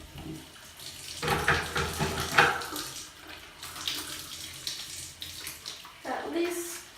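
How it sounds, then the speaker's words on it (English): Hands are washed under running sink water while preparing IV medications, a steady splashing flow close by with rubbing surges and brief muffled talk. "So I'm going to go ahead and wash my hands."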